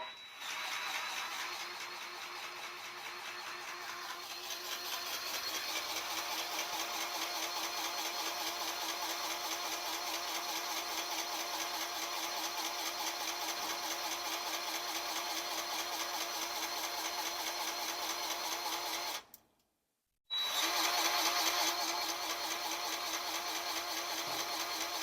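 A grease pump forces grease into a vintage bus, MCI 102A3 or GM 4104, with a steady, loud rhythmic mechanical whir running continuously, cutting out briefly near the end before resuming.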